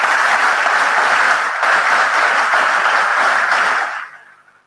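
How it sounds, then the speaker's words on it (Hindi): An audience at a Guru Maa spiritual session claps loudly and densely together for several seconds before the applause quickly dies away. "एक बार अपने लिए खूब जोर से तालियां बजाएंगे"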